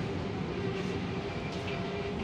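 An old KRL commuter train rolls past at steady volume, a continuous rumbling rail noise with a faint metallic hum and no distinct clatter, heard alone without talk.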